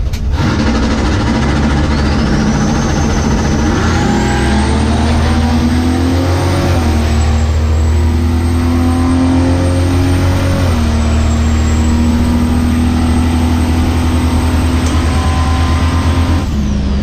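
A Studebaker car's engine roars loudly and continuously, holding a heavy low drone with pitch shifts as it revs up and settles, a high whine running above throughout.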